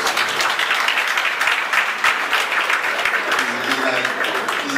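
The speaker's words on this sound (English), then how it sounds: "give her another round of applause" Audience members at the Punch anniversary lecture give a loud, sustained round of applause, dense clapping from many hands that continues to the end, with a voice speaking over it toward the close.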